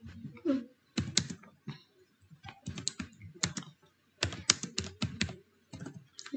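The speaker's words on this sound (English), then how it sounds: "I am typing." Typing on a computer keyboard: clusters of crisp, close key clicks in irregular bursts with short pauses between them, quiet overall and with no talk.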